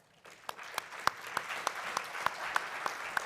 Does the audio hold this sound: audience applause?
yes